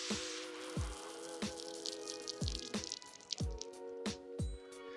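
Water drips onto car paint in about seven distinct, close-up plops, roughly one every two-thirds of a second, each a soft wet tap in an otherwise quiet space.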